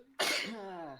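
A single sharp human sneeze bursts out after a brief quiet lead-in, loud and close, then trails into a voiced, tailing exhale.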